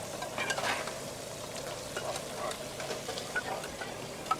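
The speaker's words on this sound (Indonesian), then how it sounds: "Ini sotong goreng tepung." Battered squid fries at a night street food stall in Johor, Malaysia, giving a steady, moderate sizzle with small crackling pops throughout, no voices.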